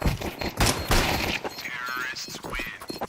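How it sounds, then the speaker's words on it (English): Rapid gunfire from a professional Counter-Strike match at PGL Astana 2025, with several sharp bursts in quick succession during a double kill, mixed with commentator voices. "Double kill for Lake, 1 on the entry, 1 on the exit."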